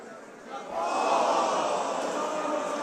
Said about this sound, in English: Our crowd once again reacting to the replay of a spinning back kick